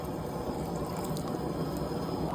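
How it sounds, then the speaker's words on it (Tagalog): Water pours steadily into a pot for chicken sinigang, a continuous splashing rush filling the whole moment without pause, close and fairly loud. "lagyan na natin ng tubig"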